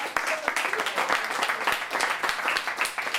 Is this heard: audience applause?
yes